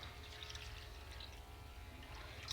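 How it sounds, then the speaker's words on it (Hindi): A glass of water is poured into a bowl of soaking ingredients for a mango dessert, a faint, continuous trickling splash lasting a few seconds. "उसके बाद इसमें हम डालेंगे 1 गिलास भर के पानी"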